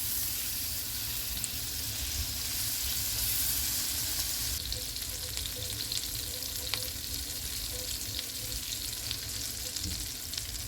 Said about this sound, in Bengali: আমি প্যানে বাটার নিয়ে নিয়েছি।